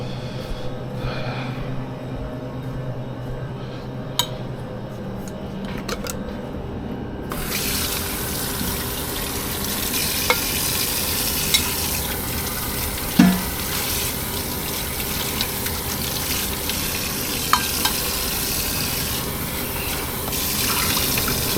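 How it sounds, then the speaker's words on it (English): Hot water pours into a mug holding cut ginger root. A quiet start gives way to a steady, close rushing splash, with a few small clinks and no talking. "I have some ginger roots that I cut up, and I'll just add some hot water to it"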